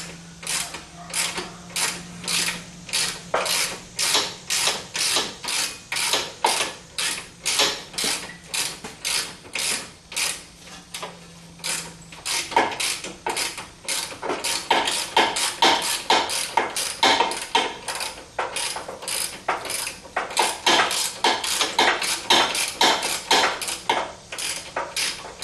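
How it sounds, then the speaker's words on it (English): A 3/8 inch ratchet removes rear brake bolts on a 2015 Jeep Wrangler, giving a long run of close, loud, rapid metallic clicks with a brief pause midway before the steady ratcheting resumes. "got the 3/8 inch ratchet. Should be able to take that stuff off easily now."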